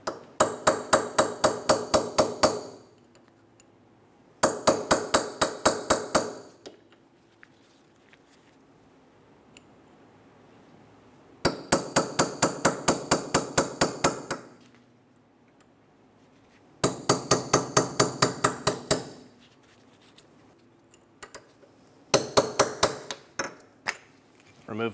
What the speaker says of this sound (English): I'm going to use a flat punch to remove the axle nut cap.